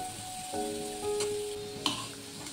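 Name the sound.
stir-frying potatoes in a wok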